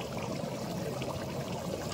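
Egg dopyaza gravy boils in a pan as a quiet, continuous burbling and hissing wash with no distinct pops and no voices.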